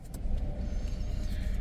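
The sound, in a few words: new Dacia Duster car engine starting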